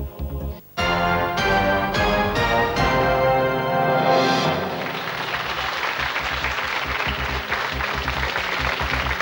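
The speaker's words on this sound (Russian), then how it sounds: "Это были аплодисменты чистящему порошку и жвачке, которые только что вы видели." Loud TV game show studio audience applause swells in after a burst of music, continuing as a dense, steady roar of clapping to the end.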